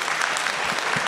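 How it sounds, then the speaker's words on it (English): An audience applauds a speaker at a Black History Month conversation event, a brief, steady wash of clapping without pause. "let's give Jerry a round of applause"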